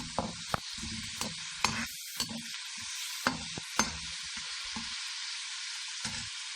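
Minced meat fries in mustard oil with a steady sizzle, broken by repeated scraping stirs and soft knocks of a spoon against the pan.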